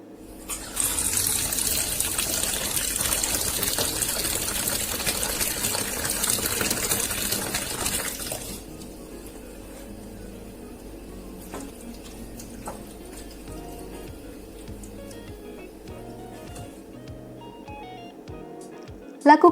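Water gushes steadily over soaked soybeans as they are rinsed to slough off their skins, a loud running stream that stops abruptly, leaving quieter dribbles, clinks and handling noises.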